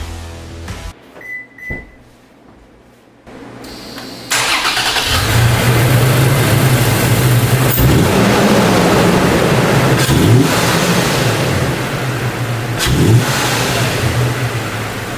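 A few clicks and a short crank, then a Toyota Tacoma truck engine fitted with a cold air intake catches and settles into a loud, steady idle with occasional revs rising and falling.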